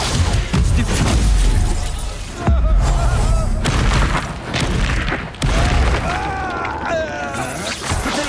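Heavy booming blasts and shattering crashes from the Bombarda spell in Hogwarts Legacy come in repeated loud bursts, mixed with swooshing effects and game sounds, with a voice talking over parts of it.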